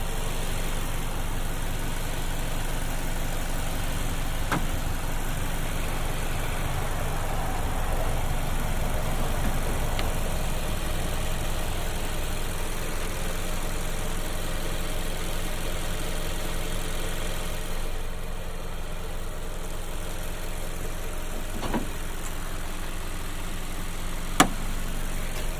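A 2016 Mazda CX-5 AWD sits idling, its engine a steady, even low hum with a few faint clicks and no talking over it.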